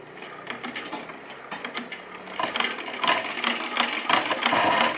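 Home sewing machine running as fabric edge is guided along the throat plate guide, a steady rapid ticking stitch rhythm that grows louder and busier after the first couple of seconds, with no talking.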